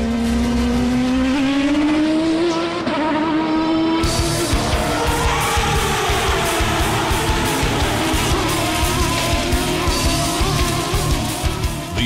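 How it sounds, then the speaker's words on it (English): 750-horsepower Champ Car race cars scream past one after another, engines rising and falling in pitch with loud, continuous roaring and overlapping passes close by. "Cristiano D'Amata are but a few of the world-class drivers chosen to pilot these 750-horsepower beasts in the hope of winning the ever-elusive Vanderbilt Cup."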